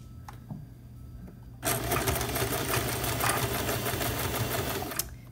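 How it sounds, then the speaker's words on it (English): A sewing machine starts up and runs steadily on a zigzag stitch through sundress fabric, with a fast, rattling mechanical whir, close by, after a few soft clicks. "So we're just gonna put it in the sewing machine."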